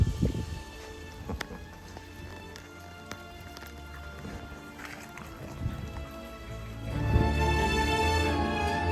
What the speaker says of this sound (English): Just the sound of the rain on this canopy